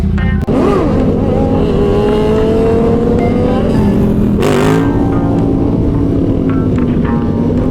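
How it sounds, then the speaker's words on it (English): A nearby motorcycle engine revs and climbs in pitch, drops briefly with a sharp shift as the clutch pops, then pulls strongly again amid steady traffic rumble and wind at a Florida bike night. "Don't you just love that sound when that clutch pops?"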